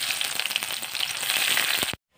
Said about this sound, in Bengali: গরম হয়ে গেছে, এবার দিয়ে দিচ্ছি তেজপাতা আর জিরা, এবারে দিয়ে দিচ্ছি কুচানো পেঁয়াজ